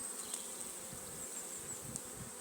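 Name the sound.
swarm of honeybees in a WBC hive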